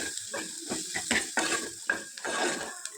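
Rice mixed with salt and a pinch of turmeric is stirred in a pot, a run of quick scraping, rattling strokes against the metal, close and fairly soft.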